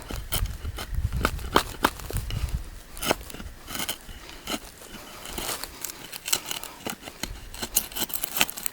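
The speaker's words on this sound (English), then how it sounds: "we're going to try to cut a little trough in this" A Hawkes Hellion blade, with cutting edges on top and bottom, carves a trough into white wood held underfoot, giving a run of close, sharp scraping and crackling strokes in an irregular rhythm with no speech.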